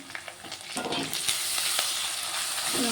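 Ginger garlic paste and turmeric sizzle steadily in hot tempering oil for lemon rice, a close, dense crackling hiss with brief stirring scrapes and no talk.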